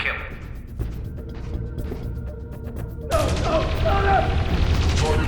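Gunfire in Dreamfall Chapters aimed at a fleeing target, with booming shots and crashes that grow into a loud, sustained burst partway through, with voices speaking.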